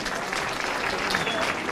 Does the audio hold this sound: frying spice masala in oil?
no